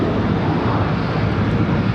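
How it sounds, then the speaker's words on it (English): An American Airlines Boeing 777 jet departing Charlotte Douglas International for DFW, its engines a loud, steady broadband roar with no pauses, close and dominant throughout, faintly buffeted by wind. "the American 777, what we're looking at right there is American Airlines 2544 off to DFW"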